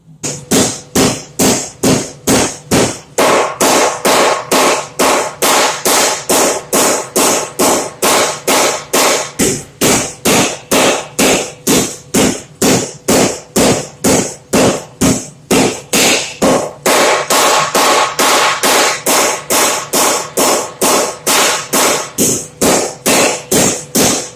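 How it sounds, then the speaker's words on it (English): A pro-series power hammer forges a rasp, pounding in a fast, relentless rhythm of sharp, loud metallic blows that repeats evenly and close by, with a few brief shifts in pace. "Y'all can see the hammer action up close and personal."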